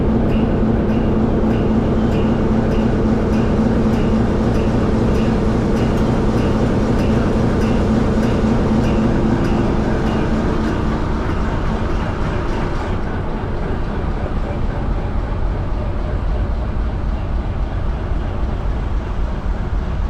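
A roughly 30-year-old Class 60 diesel locomotive engine runs with a steady, heavy low rumble and a mid-range hum, loud and near, continuous throughout with a slight change in tone partway through.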